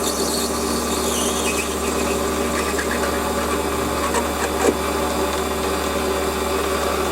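Warco WM180 lathe parting off a metal bar with a parting tool: a steady machine hum with a thin high squeal running throughout, close and continuous, with one brief knock near the end.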